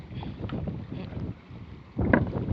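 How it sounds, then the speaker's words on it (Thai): Strong wind gusting over open water beside floating fish cages on a tilapia farm, a steady buffeting roar with a louder surge near the end, with no speech. "ลมก็แรง"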